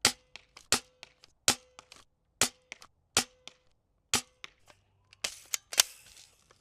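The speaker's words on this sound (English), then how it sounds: "Last but not least, going to the rifle, it was very impressive as well with the accuracy and range." An airsoft rifle fires a series of about a dozen sharp, snappy shots in an irregular rhythm, each a crisp close crack with a short tail, ending in a denser cluster of shots.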